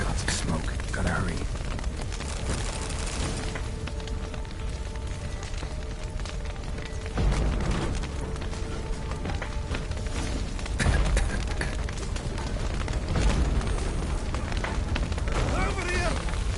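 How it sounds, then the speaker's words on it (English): A stable burns in Witcher 3 as its roof collapses, with a constant roaring crackle of fire, heavy thuds and crashes standing out at a few points, and voices calling out over the blaze. "The roof's collapsed!"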